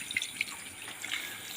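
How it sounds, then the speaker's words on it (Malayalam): Water added to a cooking mixture in a pot gives a few soft drips and a light trickle, faint and close, with no talking. "മിക്സായതിന് ശേഷം നമ്മൾ ഇതിലേക്ക് കുറച്ച് വെള്ളം ചേർക്കുകയാണ്."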